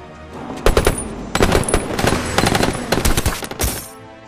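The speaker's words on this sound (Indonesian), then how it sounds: "dia pun diberondong peluru oleh Charlie dan anak buahnya" Bursts of machine gun fire from an action film scene in which a car is sprayed with bullets, rapid loud cracks in two dense volleys close together, almost without pause.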